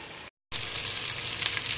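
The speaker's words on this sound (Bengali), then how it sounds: "এখন আবার একটু ঢেকে দিই যাতে এর মুরগিটা একটু ভাজা ভাজা হয়" Chicken pieces for a dopiaza fry in a pan with a steady, close crackling sizzle; a brief dead gap early on, then the hiss returns stronger and continuous.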